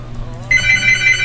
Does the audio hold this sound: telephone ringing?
yes